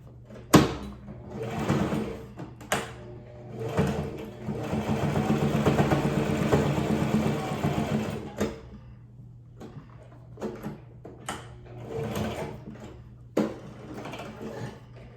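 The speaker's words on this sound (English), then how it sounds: "I backstitch just once up on the top and once up on the bottom just to make sure that they stay." A sewing machine stitches a fabric face mask, running in a steady continuous burst with a short back-and-forth backstitch, framed by clicks and handling knocks before and after; close and fairly loud.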